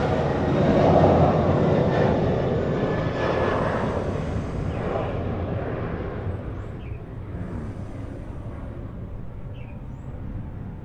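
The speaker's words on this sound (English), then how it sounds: "Airplane coming." An airplane passes overhead outdoors, a broad rumbling engine roar that is loudest early on and slowly fades as it moves away, with no talk.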